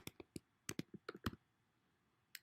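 Quick bursts of keystrokes on a computer keyboard, about a dozen close, crisp clacks in an uneven rhythm, then a pause and one final tap, with no voice over them.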